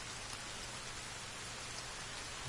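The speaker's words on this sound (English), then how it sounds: "Okay, it's raining." Steady rain in the survival video game The Forest, a dense, even hiss of falling drops with no voices or thunder over it.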